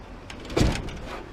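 A truck hood lowered shut gently on heavy-duty hinges with rubber latches, giving one soft, muffled thud of moderate loudness with a short settling rattle, no slam and no voices.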